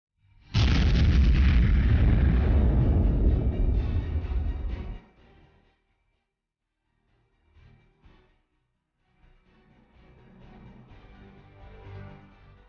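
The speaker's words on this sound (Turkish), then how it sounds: "Banka şubesindeki doğalgaz boru hattında patlama yaşandı." A massive gas pipeline explosion at a bank branch erupts with a deep roaring boom that rumbles for several seconds, then fades into quieter crackling and distant noise.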